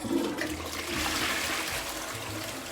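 A toilet flushes nearby with a loud rushing, swirling surge of water that holds steady for a couple of seconds, no voices over it.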